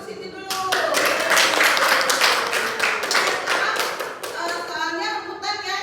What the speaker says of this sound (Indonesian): Ya, oke, tepuk tangan untuk Siti dulu.